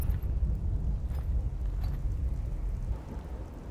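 A thunderstorm in The Cycle Frontier video game, with a continuous low rumble of rain and thunder holding at a steady, fairly loud level throughout.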